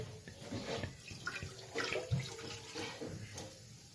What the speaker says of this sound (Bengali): লাউ পাতাটা আমি প্রথমে সিদ্ধ করে নেব, তারপরে পেস্ট করব। তো প্রথমে দিয়ে দিব জল।